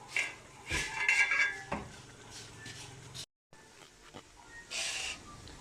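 Onions and ginger garlic paste are stirred in a pan for biryani, giving close metallic scrapes and clinks of a spoon against the pan in irregular bursts with a faint sizzle beneath, no talk.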